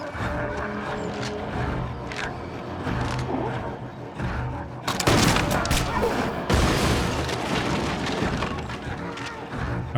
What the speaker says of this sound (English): Wait for him to shoot.